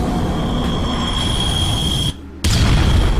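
A loud, sustained roaring rumble of an in-game explosion in Environmental Station Alpha cuts out abruptly for a moment, then bursts back in at full force.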